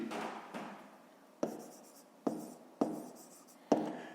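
A pen writes on paper during a fifth-grade maths lesson, close and quiet, with scratchy strokes broken by several sharp taps as it lifts and touches down again.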